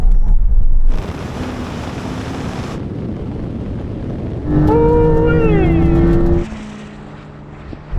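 A Tesla Model S Plaid launches in a drag race against a Ferrari SF90 and a Porsche 911 Turbo S, heard from inside as a loud rush of wind and road roar with a rising, whistling electric-motor whine.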